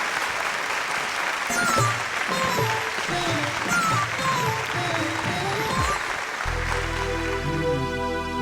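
Loud applause from a studio audience on a Kannada singing reality show, sustained and dense for several seconds with music and a sung melody over it, giving way to instrumental tones at the end.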